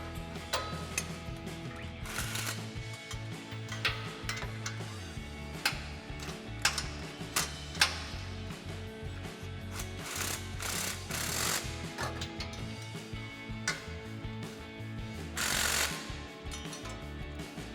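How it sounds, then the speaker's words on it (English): Ratchet turning a 14mm socket on a swivel and extension, tightening an exhaust bolt on a 2022-2023 Toyota Tundra, with quick repeated clicking bursts and metallic taps, fairly quiet and close, no talking. "Now we can tighten this down with a 14mm socket,"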